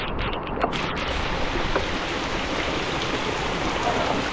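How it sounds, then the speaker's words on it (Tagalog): Heavy rain pours down in a dense, unbroken roar of broadband hiss, loud and close, with no voices over it. "Ang lakas ng ulan."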